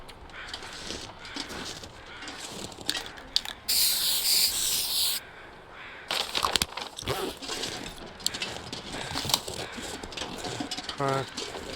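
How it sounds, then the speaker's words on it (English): A spray paint can hisses in the survival video game The Long Dark, one steady burst of about a second and a half amid quiet game ambience and shuffling, with a voice speaking at times. "Then we want to spray paint it."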